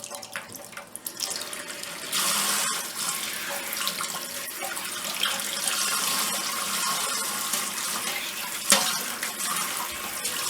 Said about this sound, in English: A little bit of cool water.